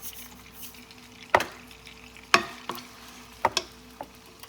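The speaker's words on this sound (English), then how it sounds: "I'm using ground turkey today. Break that up." Ground turkey is broken up and browned in a pan, giving a faint steady sizzle punctuated by a few sharper scraping and stirring clicks from the utensil.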